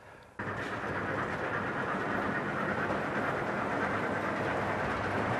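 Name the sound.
model railway train running on a layout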